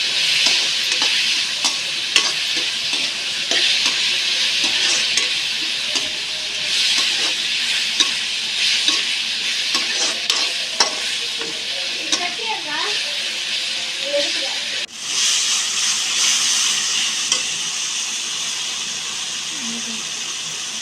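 Steady sizzling and hissing as turmeric powder is stirred in a hot pan for okra curry, with scraping, clinking stirring strokes throughout, fairly close and loud.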